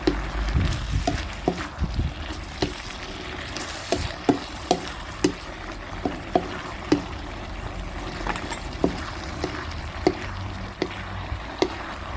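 Minced pork with pickled bamboo shoots is stir-fried in a pan, a soft continuous sizzle punctuated by regular sharp clicks of a utensil scraping and tapping the pan, moderately close.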